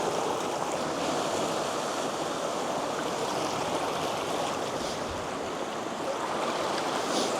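Ocean waves at Hellfire Bay wash in a steady, continuous roar of surf, with no voices over it.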